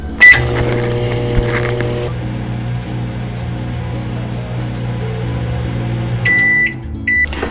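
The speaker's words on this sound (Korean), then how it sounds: "전자레인지에 4분간 돌려주면 됩니다" A microwave oven hums steadily while cooking steamed egg for four minutes, with a beep at the start and a few sharp beeps near the end as it finishes.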